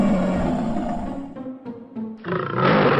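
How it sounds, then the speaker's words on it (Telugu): A lion roars in a narrated moral story, two deep rumbling roars with a short pause between them, loud and close, with no talk over them. "సింహం నీటిలోని దాని ముఖం చూసి గాండ్రించింది."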